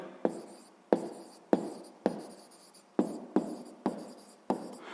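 Handwriting during a sixth-grade math exercise gives eight short, scratchy strokes at fairly even intervals, each starting sharply and trailing off, close up with no other sound.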